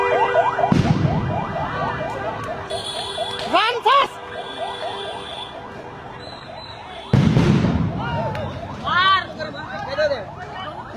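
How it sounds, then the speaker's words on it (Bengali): Loud sound grenade blasts burst at a tense street protest at Dhanmondi 32 in Dhaka, two sharp booms standing out over constant crowd hubbub, shouting and a reporter talking throughout. "ফের সাউন্ড গ্রেনেড নিক্ষেপ করেছে।"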